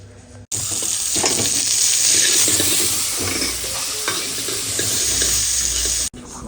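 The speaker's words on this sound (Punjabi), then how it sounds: "ਉਧਰ ਪਿਆਜ਼ ਭੁੰਨਰ ਹੋ ਰਿਹਾ" Onions roast in a pan with a loud, continuous sizzle and frying hiss, punctuated by stirring scrapes and clatters, with brief quiet gaps at the start and end.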